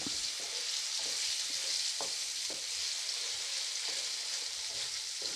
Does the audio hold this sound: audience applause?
no